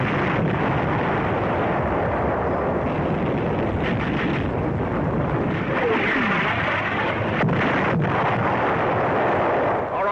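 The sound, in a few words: artillery fire in 1943 North Africa film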